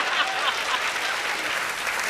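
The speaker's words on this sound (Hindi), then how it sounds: "यहां ताली बजनी थी, अब ताली बजाओ" An audience at a Hindi comedy show breaks into loud, sustained clapping that fills the space evenly without pause, the crowd's applause dense and close throughout.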